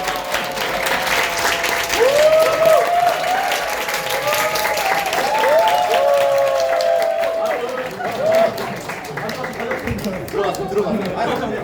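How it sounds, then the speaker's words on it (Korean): Audience applause at a magic show, a steady wash of clapping with voices cheering and calling over it, slowly thinning toward the end. "여러분 박수 주세요."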